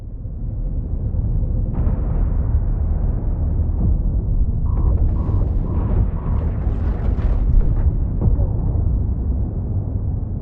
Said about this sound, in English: We're taking heavy fire, Commander Ferris.